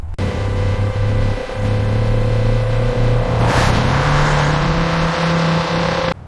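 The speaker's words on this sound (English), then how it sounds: "The first DeLorean begins its dynamic testing on the Dunmurry track." A 1981 stainless steel DeLorean drives on the Dunmurry factory test track, its engine giving a steady, close droning hum that climbs slightly in pitch partway through as it accelerates.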